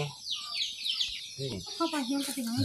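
Farm chickens cluck and chatter in quick, busy bursts at close range, with a voice talking over them.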